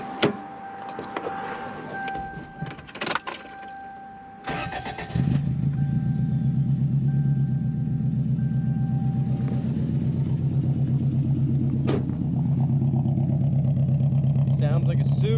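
A car engine being test-fired before a bracket is refitted cranks and then runs in a steady, rumbling idle with slight roughness, close and loud; a person talks briefly beforehand amid clicks and handling noise.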